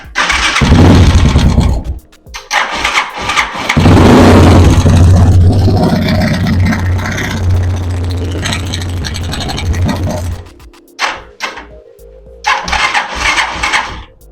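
An Italika DM 200 motorcycle engine, after repair for strange engine noises, cranks and fires up, then idles loudly with a steady rumble, drops briefly, and restarts near the end in short bursts.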